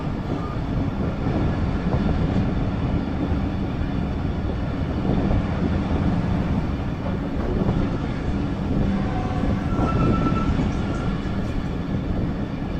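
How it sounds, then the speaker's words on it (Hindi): Khyber Mail passenger train pulling out of Raiwind railway station in Pakistan, a steady loud rumble of wheels and carriages rolling on the track, continuous with no voices. "रायविंड रेलवे स्टेशन से हमारी ट्रेन निकल गई है"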